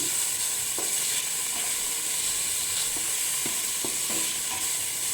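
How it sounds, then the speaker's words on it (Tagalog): Beans are stirred in a frying pan for vegetable lumpia, with a constant loud sizzle close up and soft scraping taps of the utensil scattered through it. "Haluin natin yung beans."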